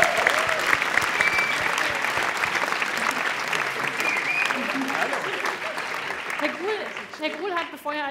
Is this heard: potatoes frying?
no